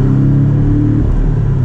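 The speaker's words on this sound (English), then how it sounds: "So there is some road noise." Steady low road rumble and engine drone inside a Porsche 718 Cayman S while driving, a constant close cabin noise with no talking.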